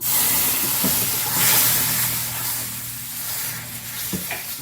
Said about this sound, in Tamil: இப்போ பாட்டி பால் ஊற்றுறேன்